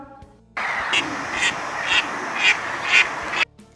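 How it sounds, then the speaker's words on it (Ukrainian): A farmyard duck quacks about five times in a steady rhythm, close and fairly loud, over a constant rushing background noise. "Так, а це в нас такий звук видає качка."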